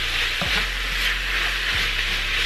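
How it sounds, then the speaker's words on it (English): Minced beef browning in a pan on the stove gives a steady, close sizzle while a utensil stirs it, with a couple of brief scraping strokes through the frying. "I'm just gonna stay at the stove and continue mixing this until all the red is disappear into brown."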